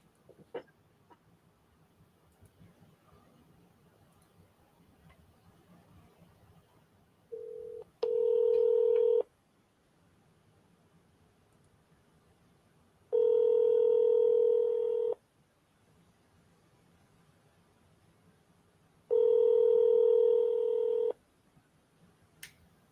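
An outgoing phone call begins with a quick burst of dialing tones, then three long, steady ringback tones separated by pauses, heard clearly with no talking.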